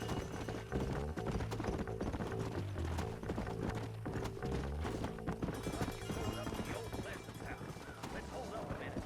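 Horse hooves clip-clop at a gallop in Red Dead Redemption, a steady rhythmic pounding under music and game sounds.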